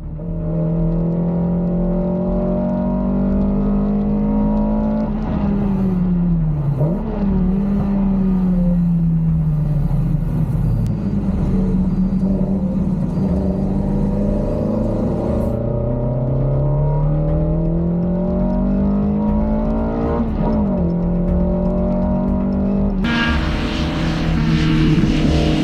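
V8 race cars roaring at the start of a race, a loud sustained engine note that climbs and falls in pitch throughout, with a brighter burst of engine noise near the end.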